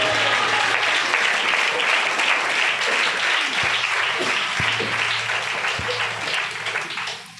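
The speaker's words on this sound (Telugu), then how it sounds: "చప్పట్లు కొట్టు." A church congregation at a worship service claps together in loud, sustained applause. A low electrical hum from the sound system drones under it, and the clapping tapers slightly toward the end.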